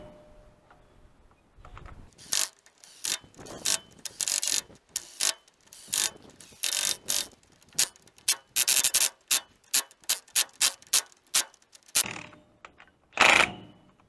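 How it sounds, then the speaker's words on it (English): Impact wrench on its lowest setting snugging rear axle hub bolts on a 2500HD pickup: a quick series of sharp, rattling bursts, close and loud, with brief pauses between them and a stronger final burst near the end. "I'm going to put these in snug with the impact on the lowest setting"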